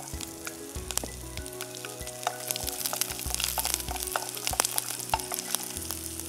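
Dried chillies and garlic cloves fry in a pan with a continuous bright sizzle and crackle, broken by scraping stirs and occasional sharp pops.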